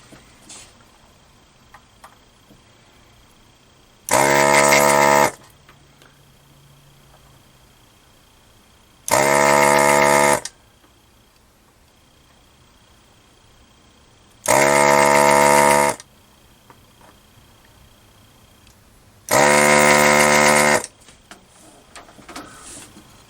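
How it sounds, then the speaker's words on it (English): An electric desoldering gun works on pinball circuit board holes, giving four separate loud, steady bursts of a few seconds each. Each burst is a vacuum pump drawing the solder out, with quiet gaps between the bursts. "this thing, you know, it heats up fast, vacuums the solder right out of there"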